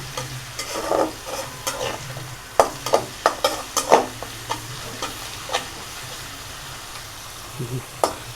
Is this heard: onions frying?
yes